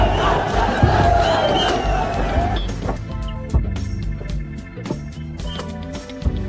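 A large protest crowd in Kathmandu, Nepal roars and shouts continuously, dense and loud, with scattered sharp bangs and cracks cutting through the din.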